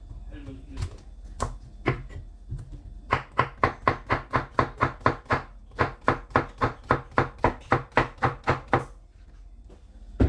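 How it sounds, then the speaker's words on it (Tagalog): Vegetables sliced into small pieces with a knife on a cutting board for Korean doenjang jjigae, a steady run of about twenty crisp, evenly spaced chops, close and loud, after a few scattered cuts at the start. "Slicein natin siya ng maliliit."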